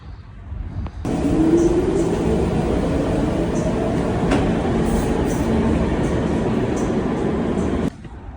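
A New York City subway train rumbles loudly and steadily, a continuous roar of wheels and carriage noise close by with faint squeals and clatter, no voices.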